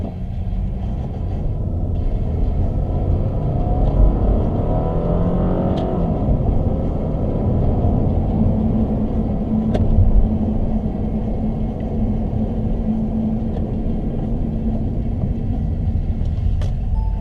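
A stock car engine pulling under acceleration, heard from inside as a steady low rumble and drone that swells slightly and holds, with no voices.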